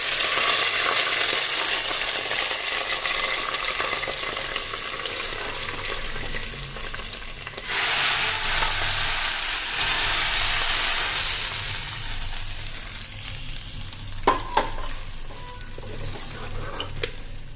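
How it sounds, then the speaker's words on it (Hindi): Garlic tempering sizzles and spits loudly as it is stirred into mustard greens saag after the flame is switched off, a steady hiss that swells again midway, then thins out with a few sharp clinks near the end. "ये खाली लहसुन का तड़का डाल देते हैं साग में"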